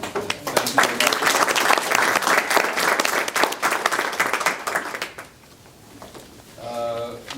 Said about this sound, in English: I'd like to give the ABC another round of applause.